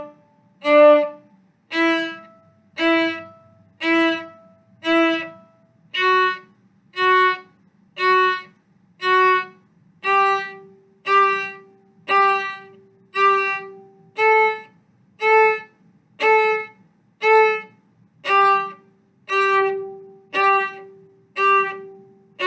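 Whole-bow martelé strokes on a bowed string instrument in an orchestra warm-up, about twenty separate detached notes with a sharp bite at each start, evenly spaced like a slow scale, heard alone and close.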